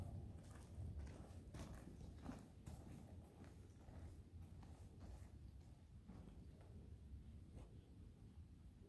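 Faint hoofbeats clip-clop at a steady walking pace, soft and somewhat distant throughout.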